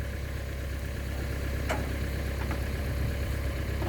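A low tractor engine idles steadily, a constant rumbling drone close by with no change in pace, and a faint click partway through, during recovery of a small farm truck loaded with eucalyptus.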